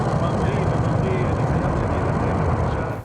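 Rocket launch at NASA Wallops carrying a student-built Arizona State University microsatellite: a dense, continuous, loud low roar that holds steady for about three seconds before cutting off.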